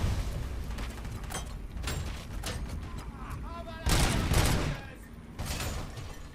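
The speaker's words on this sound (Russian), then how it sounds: "Они еще и гранаты кидают." Grenade explosions and gunfire in the shooter RoboCop: Rogue City, with repeated heavy blasts and bursts of shots in an uneven rhythm, two louder booms near the end, while someone talks over the combat.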